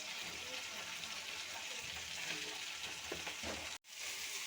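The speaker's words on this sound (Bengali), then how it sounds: "মিষ্টি কুমড়াটা আলুর সাথে একটু ভেজে নিয়েছি" Pumpkin and potato pieces with ginger paste fry in a pan, a dense steady sizzle close by with soft stirring scrapes, broken by a sharp brief dropout near the end.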